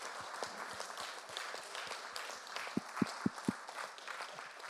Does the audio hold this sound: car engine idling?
no